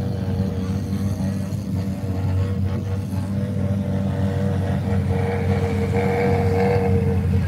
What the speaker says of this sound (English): this will be our ride, 2018 Porsche 911 GT3 Touring